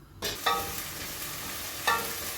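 Vegetables for a borlotti bean dish, potatoes, peas and carrots, sizzle in a pan, with two scraping stirs at roughly half a second and two seconds over a steady frying hiss.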